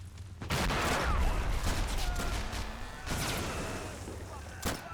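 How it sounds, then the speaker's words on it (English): Airstrike explosions go off in the Army Men: Plastic Wars video game, a dense rumbling barrage of booms and blasts that rolls on throughout, with a sharp crack near the end. "I'm gonna call in a red airstrike. It'll just be the one explosion."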